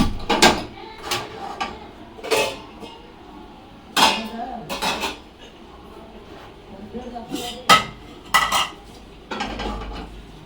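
A pressure cooker holding mutton is set down on a stove as it is switched on, with irregular metal clanks and knocks of pots and utensils under steady talking.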